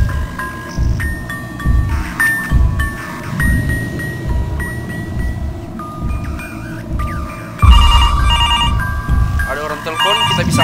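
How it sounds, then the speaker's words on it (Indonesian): A telephone rings repeatedly in a game playhouse scene, its electronic ringtone tones sounding over constant busy game noise and music, growing louder near the end. "harusnya kita bisa angkat teleponnya."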